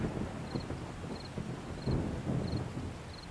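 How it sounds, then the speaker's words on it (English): Steady rain pours down in the survival game 7 Days to Die, a dense continuous hiss with faint low rumbles, while a small chirping tone repeats five times at an even pace. "Why is it raining on me?"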